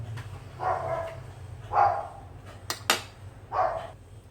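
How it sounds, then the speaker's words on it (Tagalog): A dog barks several times at a distance, single muffled barks spaced a second or so apart, over a low steady hum. "kumakahol yung mga aso ko"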